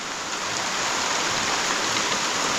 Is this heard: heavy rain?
yes